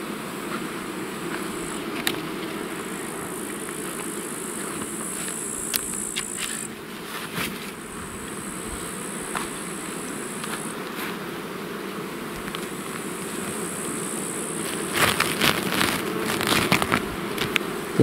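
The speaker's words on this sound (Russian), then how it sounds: "Тут пчелы везде кругом." Many honeybees buzz steadily around an open hive in a dense, continuous drone close by, with occasional clicks and rustles over the hum.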